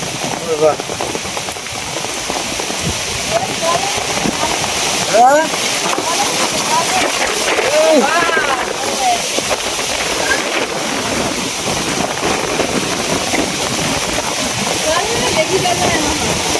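Heavy storm rain pours down steadily as a broadband wash of water, with wind and splashing throughout and people's voices shouting over it at moments.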